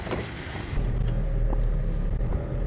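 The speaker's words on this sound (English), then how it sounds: "let me bring my car inside the garage so we can get started" A Honda Civic rolls into a garage, its engine a steady low rumble that rises after a brief start and holds close and even to the end.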